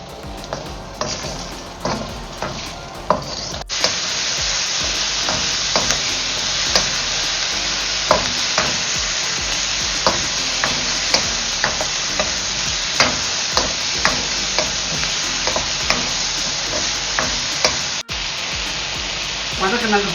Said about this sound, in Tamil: புளி போட்டு நல்லா வதக்கணும்.